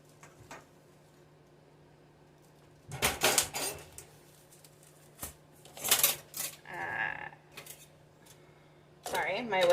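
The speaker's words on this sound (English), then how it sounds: "my whisk fell over" A whisk clatters over on a kitchen counter during home baking, a few sharp metallic knocks and rattles in a quiet room, separated by pauses, with brief talk nearby.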